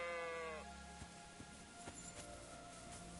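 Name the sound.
sheep bleating in video game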